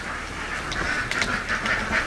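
A flock of about 3,000 ducks on a farm quacking repeatedly over a dense, noisy background, the calls overlapping and fairly close.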